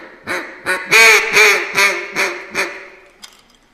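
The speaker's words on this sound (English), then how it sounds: "I go through the duck calls" Rapid, loud series of nasal quacks blown on a duck call, about seven blasts in a falling cadence, each fading slightly, ending in a short soft note.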